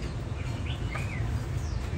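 Newly arrived pet starlings give a few faint, short chirps and a brief rising call over a steady low background hum.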